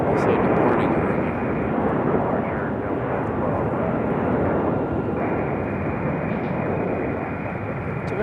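A Boeing 737-900 departs Raleigh Durham airport bound for Seattle, its jet engines a continuous heavy roar that holds steady throughout, with a voice talking over the noise.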